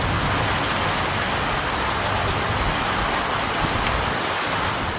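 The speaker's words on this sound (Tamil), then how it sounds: "கிருஷ்ணராயபுரம், குடித்தலை உள்ளிட்ட பகுதிகளில் 2 மணி நேரத்திற்கு மேலாக கனமழை கொட்டி தீர்த்தது." Heavy rain pours continuously for a couple of hours over Krishnarayapuram and Kulithalai in Karur district, Tamil Nadu, with a dense, loud, steady hiss and no pauses, joined by a faint low rumble like a passing vehicle.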